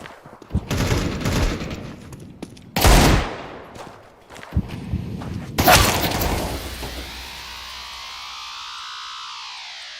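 Counter-Strike 2 match sound with repeated bursts of gunfire-like popping from a decoy grenade, loud and close, followed by a sustained hissing whoosh that fades slowly.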